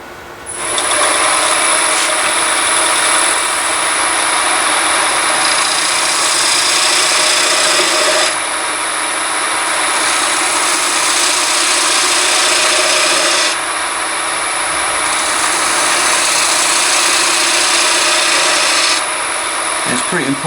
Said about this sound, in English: Just changed over to a spindle gouge because it gives me better access to cut that dovetail.